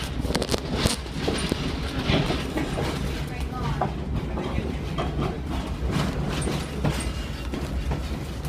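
A Stone Mountain tourist train rolls along its rails with a steady low rumble and faint clacking, a continuous ride noise that stays moderately loud throughout.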